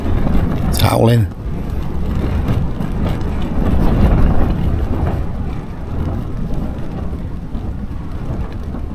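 Wind roaring around a camping tent, a dense sustained rush with flapping fabric and rain-like patter, loud and close, a brief whistling sweep near the start.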